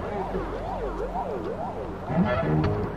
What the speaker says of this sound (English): Not a real ambulance.